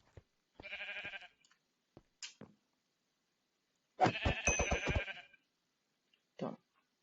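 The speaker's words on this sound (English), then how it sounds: "Oh, there's another sheep there." Sheep bleat in a Web3 Minecraft-like game, two clear wavering calls, the second longer and louder, separated by brief soft clicks and near-silence.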